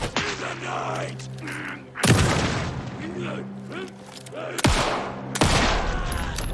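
Shotgun blasts from the survival horror game Alan Wake II, several heavy booming shots spaced a couple of seconds apart over game ambience, with a voice speaking between them.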